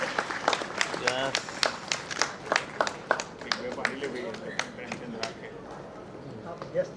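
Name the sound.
audience applause at an award ceremony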